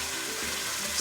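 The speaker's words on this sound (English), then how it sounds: "It should sizzle nicely like that." Pork sizzles in hot fat in a pot, a dense, steady hiss and crackle filling the short moment, close and fairly loud with no voices.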